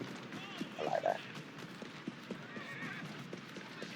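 Horse hooves clip-clop in a steady trot while a horse whinnies loudly near the start, set in the Victorian London game Assassin's Creed Syndicate, with faint ambient city noise underneath.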